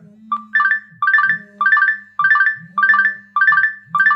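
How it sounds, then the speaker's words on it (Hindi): A phone ringtone set off by the find-phone feature of an Ambrane Wise Glaze smartwatch plays a bright repeating chime pattern, seven evenly spaced melodic bursts, loud and close with nothing else audible. "आपका फोन अगर साइलेंट पे भी होता है फिर भी आपके फोन में रिंग बजेगी"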